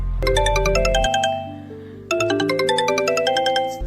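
A phone rings with a bright, melodic electronic ringtone, two bursts of rapid chiming notes separated by a short pause, close and clear with no talking.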